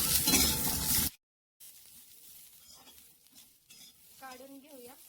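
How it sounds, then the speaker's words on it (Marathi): Green chillies and garlic roast together in a pan: a loud sizzle cuts off abruptly, then quieter crackling and light stirring follow, with a brief rising squeal near the end. "इथे बघा मिरच्या आणि लसूण आपल्याला दोन्ही एकत्र भाजायचंय."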